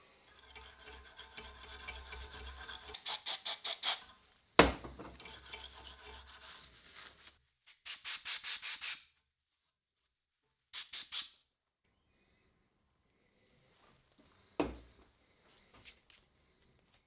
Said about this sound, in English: This is just a small steel brush.